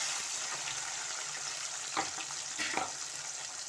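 Chopped onions and tomato sauté in a pan for garlic kuzhambu, a soft continuous sizzle with a couple of brief louder stirring scrapes partway through, fairly quiet and close.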